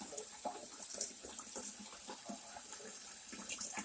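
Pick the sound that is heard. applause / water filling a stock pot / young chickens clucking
water filling a stock pot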